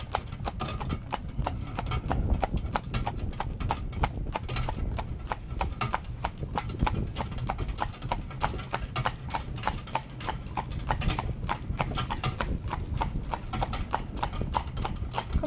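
Hooves of a horse or pony clip-clop steadily at a show, a continuous rhythmic beat of close, moderately loud steps with no talk over them.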